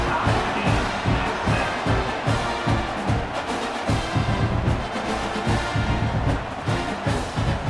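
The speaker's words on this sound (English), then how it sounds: "this crowd is buzzing after that last score" Crowd noise fills a football stadium in the video game College Football 26, a steady, loud murmur and roar of fans after a score, with no voices talking over it.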